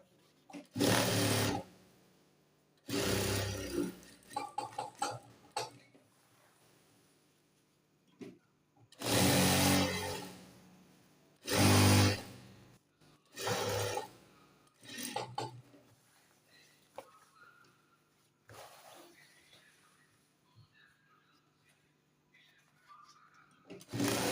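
A sewing machine stitching a sleeve, running in several loud bursts of rapid stitching separated by quieter pauses with faint handling noise.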